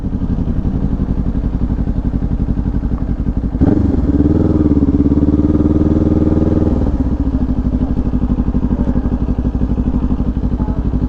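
Several motorcycles idle and rumble close by at a bike gathering along the Blue Ridge Parkway in the Smoky Mountains, with one bike's engine swelling louder for a few seconds before settling back into a steady, throbbing idle.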